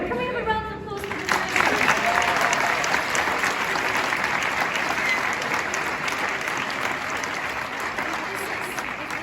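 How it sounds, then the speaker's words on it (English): A round of applause at a University of Bradford event with the new chancellor, a brief voice at the start giving way to sustained, full crowd clapping that holds steady to the end. "Can we have a round of applause for the"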